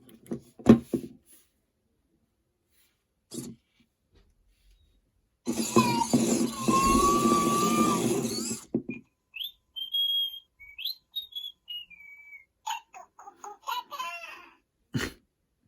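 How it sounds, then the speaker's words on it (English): A STone8 toy robot gives off a string of odd electronic chirps and warbling whistle-like tones, with a dense burst of buzzy noise in the middle and short bleeps around it, fairly close and with no talking. "Makes some weird noises. It doesn't really talk, it just kind of makes odd noises."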